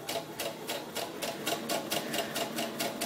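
A sewing machine stitches chamois fabric for a doll's slip with fast, even rhythmic clatter, loud and close and steady for about three seconds without pause.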